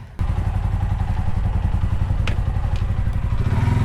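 A motorcycle engine starts up abruptly and runs with a steady, close, chugging thump on a village road in Nepal, loud and continuous with a few faint clatters over it.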